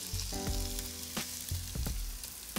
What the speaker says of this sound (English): So I'm gonna add some garlic into this pot here.